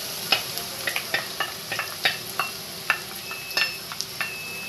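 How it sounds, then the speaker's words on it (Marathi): Onion frying in hot oil for a bitter gourd and green chili dish, a steady close sizzle punctuated by frequent light scrapes and taps of a spatula against the pan. "तेल छान तापलेलं आहे, त्यामध्ये आता आपण कांदा घालून घेणार आहोत"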